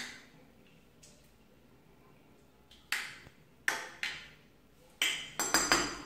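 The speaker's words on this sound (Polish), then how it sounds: "Zalane wodą trzeba troszkę wymieszać." A spoon stirs homemade lemonade with orange and sugar, giving scattered light clinks and taps against the container, sparse at first then quicker near the end, close and quiet without talk.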